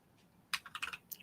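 Typing on a computer keyboard while entering text into a plain text field of a WordPress board-meeting-minutes plugin; a quiet pause, then a short run of close, crisp key clicks in quick succession with a brief extra tap at the end.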